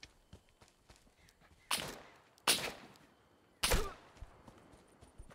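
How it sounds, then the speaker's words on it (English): Three sharp, separated gunshots ring out in a survival video game, each a loud crack with a short decaying tail over a quiet background of faint clicks and steps. "Who's shooting me all around?"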